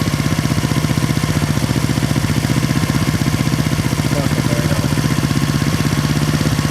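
A 1970 Honda SL350 engine with an air leak idles close by, a steady loud rapid thumping pulse that creeps slightly higher in pace as the idle rises.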